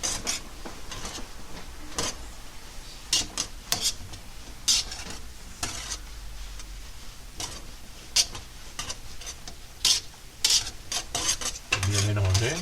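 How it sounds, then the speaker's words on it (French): Couscous grain is stirred and scraped by hand with butter and broth, giving repeated rough scraping strokes and light clicks over a faint sizzle, close and uneven in rhythm, with no talking. "J'arrose ma graine avec ça. Je retouille encore."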